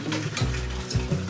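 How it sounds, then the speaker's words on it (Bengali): Cooked dal fries in a hot pan with a steady, close sizzle and a few stirring scrapes, with no talk. "তো ডালটাই ভাজছি"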